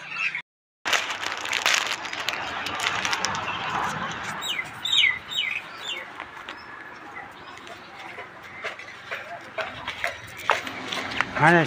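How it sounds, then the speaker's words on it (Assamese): Small birds flock to a shop each day as feed is scattered for them, chirping and tweeting in busy overlapping calls close by, while a person speaks over much of it. "সদায় এনেকৈ চৰাইবোৰ আহে"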